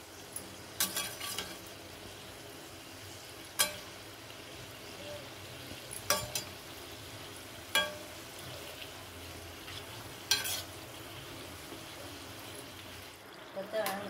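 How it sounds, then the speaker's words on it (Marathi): Fresh-coconut karanji pastries deep-fry in oil with a faint, steady sizzle, punctuated by occasional clinks and scrapes of a utensil against the pan. "करंज्या चांगल्या तळून झाल्यात"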